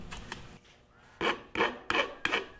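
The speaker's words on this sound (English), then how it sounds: "After pressing the frets, I'll file and bevel them." Rhythmic rasping of a file across metal frets on a guitar neck made from colored pencils. A few soft strokes are followed by four louder, evenly spaced scrapes, heard up close.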